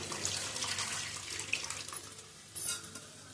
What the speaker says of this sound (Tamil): இப்போ வந்து இந்த புளி தண்ணி இதிலே சேர்த்துக்கலாம்